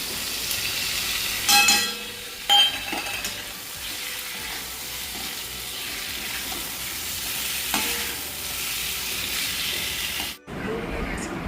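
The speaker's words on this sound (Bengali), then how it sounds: "এখন দিয়ে দেবো এই ধনেপাতা বাটাটা" Chicken sizzles and fries steadily in a pan as coriander paste goes in, a constant bright hiss with a few stirring knocks, close and alone until it cuts off near the end.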